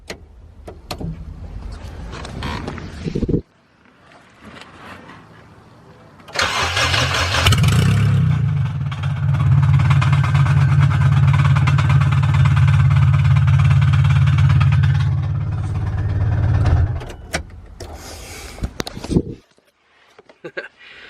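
A Polaris RZR KRX engine with an exhaust header cranks and roars to life with a loud, raspy exhaust, idles harshly for about ten seconds, then shuts off.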